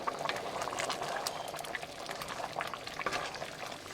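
Black-eyed peas gravy boils in a covered pot, a steady close bubbling and popping with scattered sharp pops throughout, no voices.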